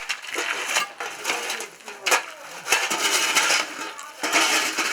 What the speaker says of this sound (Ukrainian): Працівники щодня розбивають лід.